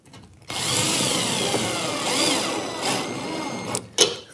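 A power drill drives a screw to fix a curtain track bracket to a plasterboard wall with timber behind it, a close, loud whirring burst lasting a few seconds that ends with a brief final spin.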